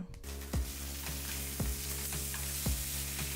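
Chicken marinated in Mountain Dew pan frying, a steady close hiss of sizzling oil broken by three evenly spaced dull knocks from stirring or turning the pieces, with no voices.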